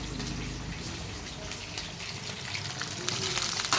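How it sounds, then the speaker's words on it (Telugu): Peanuts frying in a pan of hot oil for kurma, a steady, soft crackling sizzle that runs without a break at low volume, with no one talking. "ఇప్పుడైతే పల్లీలు వేయించుతున్నా కుర్మాలోకి"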